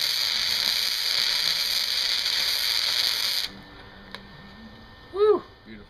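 Metal being welded for a car rotisserie: a steady, loud arc crackle and hiss runs for about three and a half seconds, then cuts off, leaving quieter shop ambience with a brief click and a short rising whine near the end.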